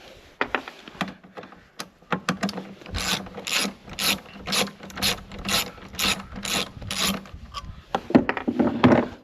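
A ratchet loosening the 10 mm bolts on the side panels of a Yamaha EF3000iSEB inverter generator, giving close, rapid pawl clicking in steady back-and-forth bursts with a few metallic knocks between them.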